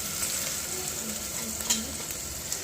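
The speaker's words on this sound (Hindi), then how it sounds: "मैंने आलू में शिमला मिर्च, बीन्स, मटर और टमाटर, बस इसी से ही मैं फ्राई कर रही हूँ" Potatoes, capsicum, beans, peas and tomato fry in a pan with a continuous crackling sizzle and a few light stirring scrapes, steady and close with no voices.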